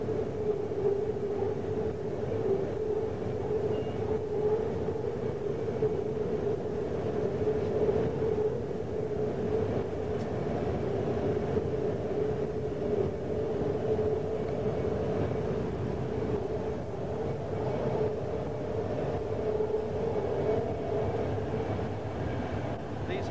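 A fast BART train rumbles steadily on an elevated line in El Cerrito at 70 to 80 miles per hour, a constant low roar and hum, continuous throughout with no breaks, heard from inside the car.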